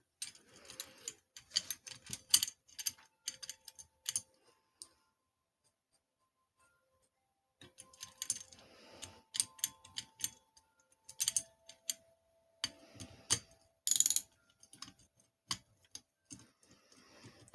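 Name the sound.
ratchet tightening bolts on 80cc bicycle engine kit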